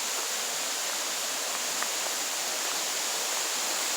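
A waterfall at Fallbrook Falls in the North Maine Woods pours in a steady, dense rush of broadband white water, loud and close, with no pauses or voices.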